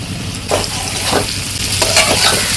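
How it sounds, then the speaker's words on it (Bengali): Loud, close frying of cut potatoes in hot oil, a dense bubbling sizzle with a few sharp stirring scrapes rising above it in quick bursts. "কেটে রাখা আলুগুলো দিয়ে দেবো।"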